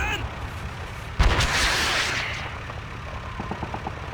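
Gunfire in the World War II shooter Call of Duty 2, Eastern Front defense of Moscow: a loud burst of shots at mid-clip under a swell of battle noise, followed by lighter rapid pops toward the end.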